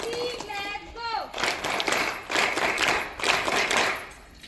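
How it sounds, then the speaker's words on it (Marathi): Audience applause at a state-level school debate competition in Maharashtra: a brief voice at the start, then a sustained burst of many hands clapping, filling the hall for several seconds. "आदरणीय रेखावार साहेबांसाठी देखील आपण जोरदार टाळ्या वाजवल्या पाहिजे"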